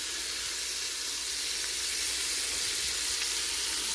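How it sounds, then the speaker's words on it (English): Beef short ribs sear in a hot pan, a loud, steady, close sizzle with no talk. "I'm going to go ahead and saute both sets of these short ribs"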